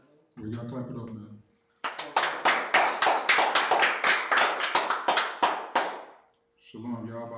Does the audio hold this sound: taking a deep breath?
no